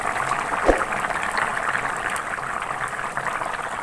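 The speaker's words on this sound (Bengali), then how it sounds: "দেখো বন্ধুরা আমার মাছের ঝোলটা কেমন ফুটছে" Fish curry bubbling steadily in a pot on the stove, a soft continuous simmer with a faint clink near the start, no talk.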